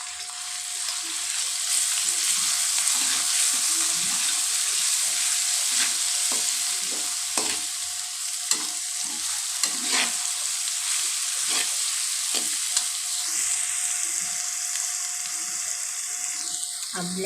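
Garlic frying in oil in a pan for a dal or sabzi: a steady bright sizzle with scattered stirring scrapes and clicks, close and continuous, no talking.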